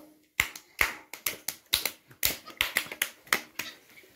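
Children clap their hands in a quick run of about a dozen sharp, close claps at an uneven rhythm, each one crisp and separate, with no talking.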